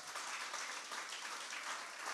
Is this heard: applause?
yes